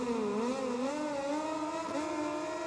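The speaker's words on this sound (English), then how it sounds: "As Stone revs it up" Motorcycle engines rev hard and steadily at the start of a race in the MotoGP 20 video game, a loud, continuous rising-and-falling engine whine with no voices.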